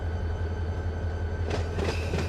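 Simulated train in the Run 8 railroad game rolls across a rail switch, a steady low rumble of wheels with a few clicking wheel-on-joint knocks near the end, heard alone.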